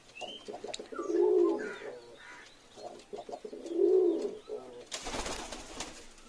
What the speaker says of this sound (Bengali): এক জোড়া চীনা নিয়ে এসেছি কেমন ডাকাডাকি করছে খুবই অ্যাগ্রেসিভ পায়রা